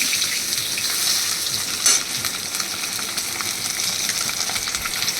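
Oil sizzles in a pan while cooking for a chital fish posto recipe: a dense, steady frying crackle heard up close, with one brief louder spatter partway through.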